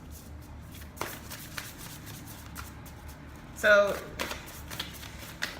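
Tarot cards being shuffled, a brief close riffle and flutter of card stock amid soft handling noises, with a voice speaking quietly.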